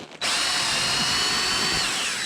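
A power drill spinning into a pair of boots starts abruptly and runs as a steady, loud, high whine for about two seconds, with no talking.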